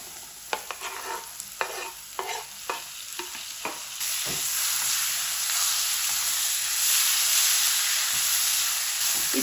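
Tomatoes added to apple gourd frying in oil in a pan, first several close clattering stirs and scrapes, then a loud steady sizzle and hiss swelling up and continuing to the end.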